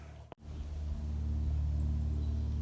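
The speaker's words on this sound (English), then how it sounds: "You can hear the plane right now." Steady low rumble of an aircraft passing overhead, sustained and fairly loud after a brief sharp interruption near the start.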